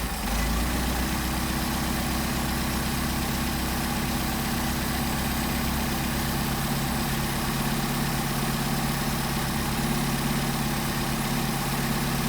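An engine fitted with Solex 44PHH carburetors idles steadily and close, a continuous low rumble with a slight rise in speed as the idle mixture is adjusted, with no talk over it.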